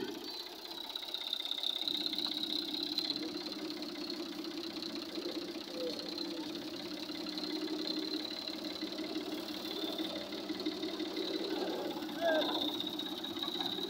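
A tractor engine runs steadily at a moderate distance, a continuous mid-pitched drone with a faint rhythmic knock, holding at an even level throughout with no clear speech over it.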